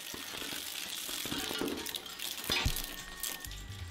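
An industrial shredder chews through plastic lighters, making a dense, continuous crunching and clattering with sharp cracks and clinks of breaking plastic, loud and close with no talking.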